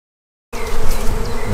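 Honeybees buzz around a hive, a dense, droning swarm hum that starts abruptly after a half-second of silence and stays loud and close, wavering slightly as individual bees pass near.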